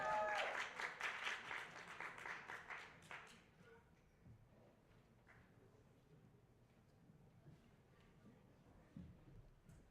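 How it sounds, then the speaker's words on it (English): Applause for a candidate at an all-candidates forum: a loud, dense burst of audience clapping that tapers off after a few seconds into scattered claps and faint room murmur. "round of applause for him."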